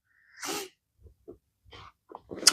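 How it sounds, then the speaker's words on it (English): Several short nasal sniffs and breathy snorts from someone with bad allergies, close and fairly quiet, spaced irregularly with silent gaps between, ending in a sharper, louder burst. "Sorry for all the sniffing here, guys. My allergies are quite bad right now."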